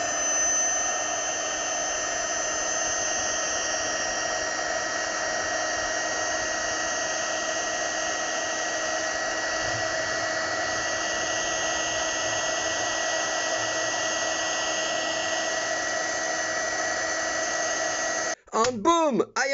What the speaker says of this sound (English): Now I'm going to put the heat shrink to protect it.